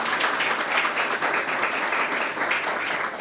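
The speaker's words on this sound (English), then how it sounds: "We can give them a great round of applause." An audience at a city government event gives a round of applause, a dense continuous clapping that stays fairly loud and even from start to finish.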